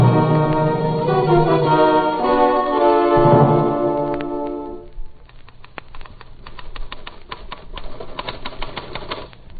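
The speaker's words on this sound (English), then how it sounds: "Take it out of the typewriter." Typewriter keys clatter in quick irregular bursts of sharp, close clicks in an old-time radio detective drama, coming in after a swell of orchestral music fades.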